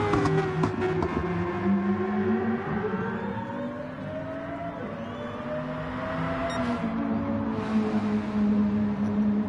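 Gran Turismo Sport race cars lap Circuit de Barcelona-Catalunya, a continuous loud engine whine that rises and falls through gear changes as the cars take the final corners.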